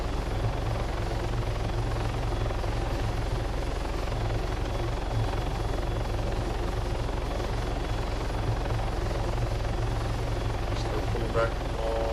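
A helicopter in the Arma 3 flight game drones with a continuous, even rotor and engine hum that holds at a steady level throughout.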